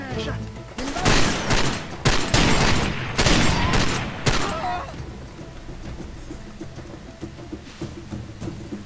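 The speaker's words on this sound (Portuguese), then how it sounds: "Tem alguém me atirando ainda." Gunfire in the shooter game Far Cry 2: several loud, dense bursts of rapid shots in the first few seconds, then tapering to fainter scattered noise.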